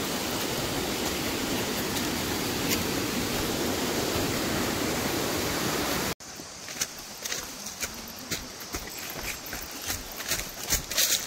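A mountain stream on a hillside path rushes with dense, steady noise, then after an abrupt cut turns into a quieter trickle with scattered splashes and clicks.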